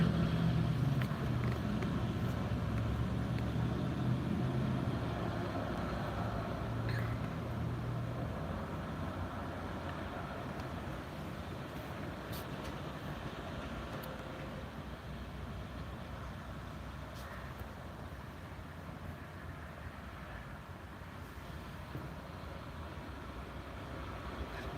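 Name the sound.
truck with drayage container trailer passing by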